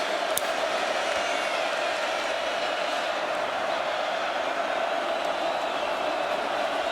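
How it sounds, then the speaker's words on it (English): Large football stadium crowd at Penn State versus Ohio State, a dense, sustained roar of disapproval that holds steady at a loud level throughout, broad and distant-sounding like thousands of fans together. "the crowd voicing its displeasure"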